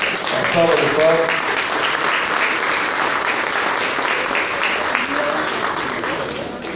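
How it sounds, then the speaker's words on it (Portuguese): Audience applause at a Lions Club installation ceremony, a steady wall of crowd clapping with faint voices underneath, holding level throughout. "Uma salva de palmas."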